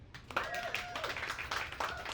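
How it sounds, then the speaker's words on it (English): A small audience at a book reading claps in a short, scattered round of applause, with a voice speaking over part of it. "Round of applause if you've been up there"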